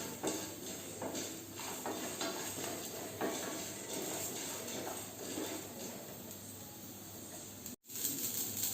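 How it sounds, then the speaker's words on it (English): Spices dry roasting in a pan for temple-style pulihora, a steady close sizzle and splutter of crackles and small pops running throughout, cut by one brief dropout near the end, no voices. "Yes, you can find all the ingredients are getting dry roasted. You can make out with the splutter noise."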